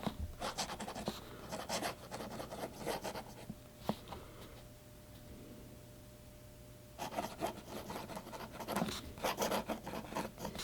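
A Soyuz Gold Nib Soviet accordion-filler fountain pen writes a sentence on paper, giving close, faint scratchy rubbing strokes in irregular bursts with a quieter pause in the middle.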